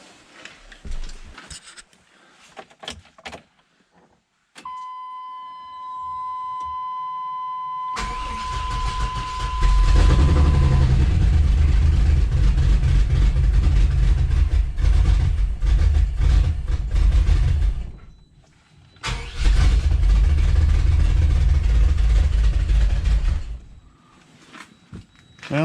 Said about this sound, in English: let's kick the tires and start the fires and see what she sounds like